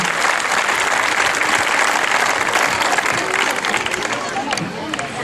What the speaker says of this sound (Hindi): वो भी जोरदार ताली बजा के उनका स्वागत करें।